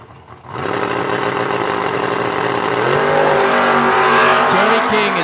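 A Camaro and a Nova launch side by side at a drag race, engines screaming loud and close as revs climb and shift, with tire squeal over the sustained roar.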